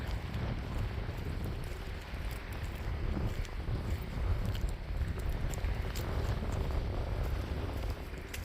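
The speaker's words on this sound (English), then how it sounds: "Wow, it's windy." Steady wind roars and buffets the microphone at a boat dock, a broad rushing noise that continues without a break for several seconds.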